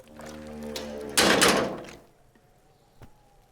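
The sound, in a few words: video game container making a muffled gong sound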